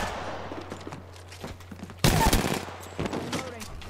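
Apex Legends gunfire rattles through a short exchange: scattered pops, then a loud sustained burst midway and another shorter volley, with players' voices faintly under it.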